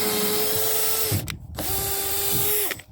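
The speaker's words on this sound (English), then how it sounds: "Able to drill through this knot here pretty easily." A cordless drill running on a 6 amp-hour battery bores through a knot in wood, whining steadily for about a second, pausing, then running again for a second, loud and close with no talk.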